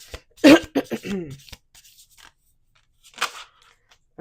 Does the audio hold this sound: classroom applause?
no